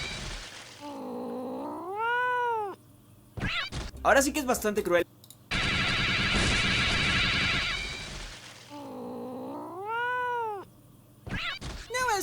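Cats meowing in a played video clip: two drawn-out, rising-falling meow calls, separated by a stretch of Spanish speech and bursts of noise.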